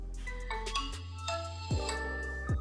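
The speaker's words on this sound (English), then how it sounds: "here's a quick snippet from my first boot video" Startup jingle of a Nokia 6 smartphone on its first boot, a short synthesized melody of bright tones over low sustained notes, played alone and fairly quiet.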